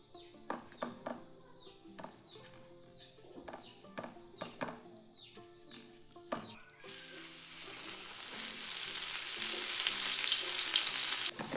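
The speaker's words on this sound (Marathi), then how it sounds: "आता मी चिलापीच्या पिसाला रवा लावून फ्राय करणार आहे" Tilapia fish pieces coated in semolina: soft clinks and handling clatter at first, then the pieces go into hot oil and a loud, dense sizzle rises and continues close by.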